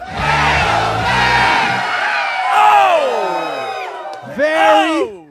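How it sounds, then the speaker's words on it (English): A hometown crowd at a live fantasy football show in Phoenix cheers and whoops loudly and continuously, with shouts rising and falling throughout. "Very, very nice. Hometown crowd. Love it."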